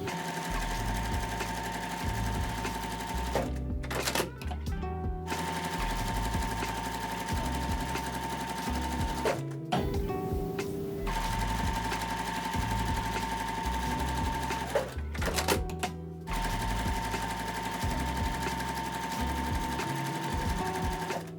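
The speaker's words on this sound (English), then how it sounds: "I'm gonna be sewing a 1/4 inch seam on both sides of the line, on both lines" A sewing machine stitches quarter-inch seams on quilt fabric, running in long steady whirring bursts with a fast mechanical chatter, broken by short pauses and clicks as the fabric is adjusted, close and clear with no talking.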